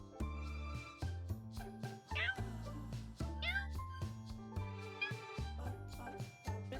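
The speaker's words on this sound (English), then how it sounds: "Little kitty." A cat meows several times indoors, short mid-pitched calls spread through the stretch, over steady background music.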